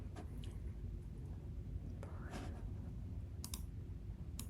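A single soft mouse click on the generate domain button in Coolify, faint and brief against a low steady background hum, with a few other light clicks around it.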